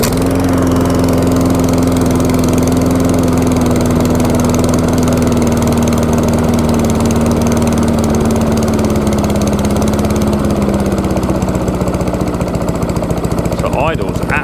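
A Bolens BCM Big 20 lawn mower engine idles close and loud, a steady low chugging drone with a faintly drifting pitch throughout, on a cheap repaired mower.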